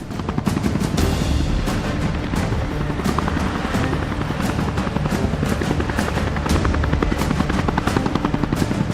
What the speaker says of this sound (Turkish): jöper timleri jandarma havacılık birliğine bağlı helikopterle bölgeye intikal ediyor